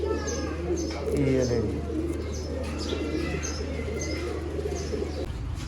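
Zeera breeder pair of pigeons cooing in soft repeated rounds, close by, with chirps and a steady low hum beneath and someone talking over them.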